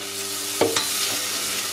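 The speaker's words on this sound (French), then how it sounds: "Donc on n'arrête pas de tourner." A spoon scrapes and stirs a homemade fresh cheese mixture drying in a saucepan over low heat, with a couple of distinct scraping strokes over a faint steady sizzle, close and quiet.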